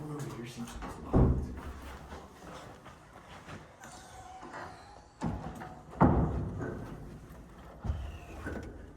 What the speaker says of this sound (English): This door over here seems locked.